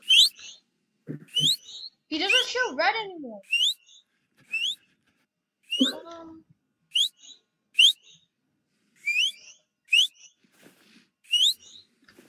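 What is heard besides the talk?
whistling in the video game Roblox Aperiphobia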